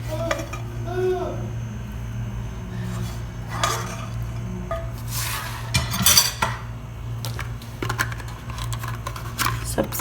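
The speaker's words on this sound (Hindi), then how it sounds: "मैं इनको 3 डिफरेंट प्लेट्स में डाल दूंगी।" Hot coconut ladoo mixture is spooned out into three plates, with metal scraping and clinking of utensils on dishes in bursts over a steady background hum, and brief bits of a voice in between.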